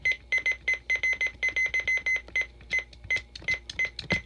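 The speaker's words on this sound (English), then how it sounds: "It's got a bunch of beeps if we just keep pushing it." A talking atomic clock gives a rapid run of short electronic beeps as its round button is pressed repeatedly, about a dozen close, evenly spaced tones with no talking.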